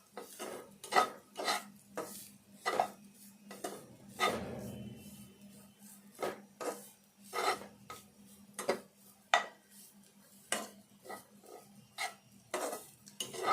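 A spoon repeatedly scrapes and clinks against a pan while ingredients for carrot laddu fry in ghee, with a faint steady sizzle underneath and the irregular knocks of stirring close by.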